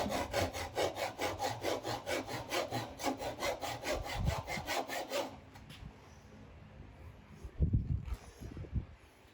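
Hand saw cutting wood for a dovetail joint on a keepsake box, a steady rhythmic rasp of about twenty back-and-forth strokes, then the sawing stops and a few soft knocks and handling sounds follow.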